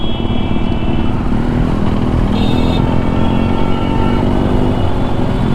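A Royal Enfield Bullet motorcycle, fitted with a thin rear tyre and a wider front one, runs its engine steadily and loudly up close, a continuous thumping drone with no break across the stretch.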